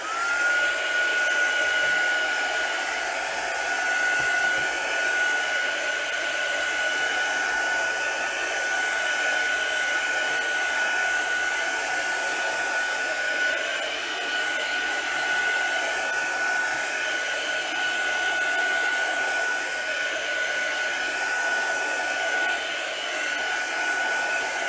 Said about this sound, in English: I'm going to use my heat tool quickly, but you don't need it.